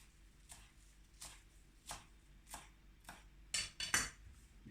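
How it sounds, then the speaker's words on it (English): A knife roughly chopping fresh coriander on a board, a handful of separate close cuts at an uneven pace, ending in a quicker cluster of sharper chops, with no talk. "Now I'm just going to roughly chop up the coriander"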